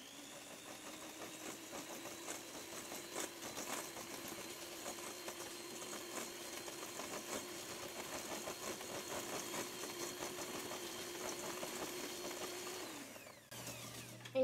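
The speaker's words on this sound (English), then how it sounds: "So we're just going to mix the butter and the sugar until smooth" An electric hand mixer creams butter and sugar for chocolate biscotti with a steady, fairly quiet whirring drone that holds for about thirteen seconds before cutting off, with no speech over it.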